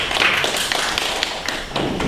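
A church congregation applauds to welcome a visiting pastor, a steady mid-level patter of clapping hands filling the room throughout.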